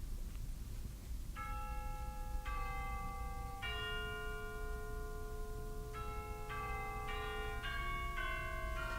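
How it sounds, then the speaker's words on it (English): Chimes ring out alone, single bell-like strikes entering one after another and layering into sustained, overlapping resonant tones that ring on clearly. "So listen to the chimes at the very beginning."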